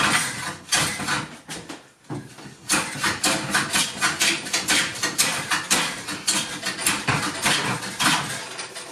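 Dense, continuous rasping scrape of a hand plane shaving wood, rough and uneven with stuttering chatter as it cuts through a knot, loud and close, briefly pausing then resuming.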